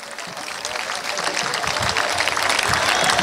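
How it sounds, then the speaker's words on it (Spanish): A church congregation gives a round of applause during a worship service, dense clapping that builds steadily and grows louder with some crowd noise mixed in. "Siga alabando a Dios, dele otro aplauso."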